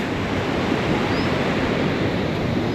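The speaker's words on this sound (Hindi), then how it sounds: "ये तो नदी हो गई इस तरफ।" A river rushes beside a mountain trekking path in the Supin Valley, Uttarakhand, giving a constant loud broadband roar of flowing water that stays steady and close throughout.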